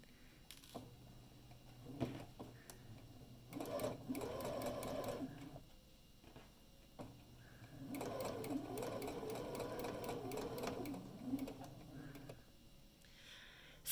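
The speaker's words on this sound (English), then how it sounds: "put the foot back down, and keep sewing" A sewing machine stitches down the pocket of a drawstring bag in two bursts of rapid mechanical whirring, close and clear, with pauses and handling noises between them.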